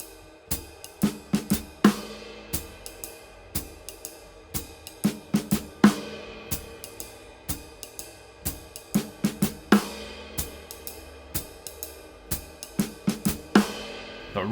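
A jazz shuffle phrase on snare and ride cymbal, with both hands striking in unison; crisp, close, accented hits repeat in a swung pattern across several bars, alone with no talk.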